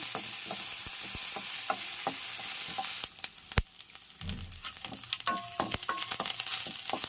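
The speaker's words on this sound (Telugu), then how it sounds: "చూడండి బాగా పప్పులు వేగిపోయాయి." Lentils, green chillies and curry leaves fry in hot oil for a tempering, giving a steady close sizzle. The sizzle then quiets into scattered crackles and the scrape of a spoon stirring the pan.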